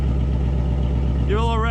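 Ford Mustang GT with an MBRP Pro Series active cat-back exhaust in quiet mode, a steady low idling rumble running under a voice that comes in near the end.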